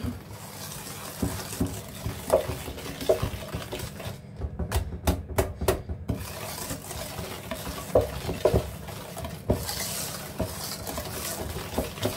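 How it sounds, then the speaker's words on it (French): A spoon scrapes and clacks around a bowl of tiramisu mixture in steady, irregular stirring strokes, close and clear, with a brief run of sharp, rhythmic taps partway through. "on va venir remuer. Mélanger, remuer, vous faites comme vous voulez"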